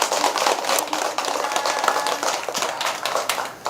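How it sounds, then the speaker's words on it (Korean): A crowd claps steadily for a few seconds at a Sunday Buddhist service at Yeongnangsa temple, a dense patter of many hands at moderate volume, with no one speaking over it. "박수 한번 칩시다"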